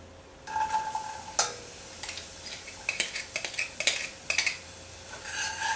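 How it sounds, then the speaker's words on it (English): Garlic and onion sauté in a pan, with a faint sizzle under metallic clinks and scrapes of a utensil stirring against the cookware, close by and with no talking. "and we're going to saute just until tender"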